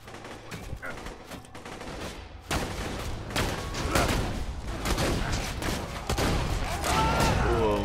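Fire sniper rifle shots in Borderlands 2 gameplay, dense bursts of loud crackling gunfire and explosions that grow busier and heavier partway through, with no talk.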